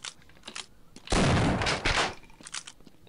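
A single heavy shotgun blast from the shooter Half-Life booms close and loud, its roar lasting nearly a second before decaying, framed by softer clicks and small sounds.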